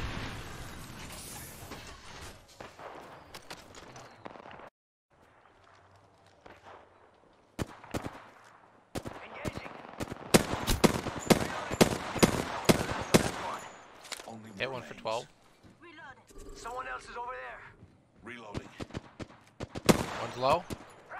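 Bursts of automatic gunfire and single shots in the Apex Legends video game, loud and close, coming in rapid clusters with short pauses between them, plus a few mechanical clicks. A player talks briefly in between.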